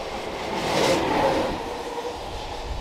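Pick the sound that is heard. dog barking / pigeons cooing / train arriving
train arriving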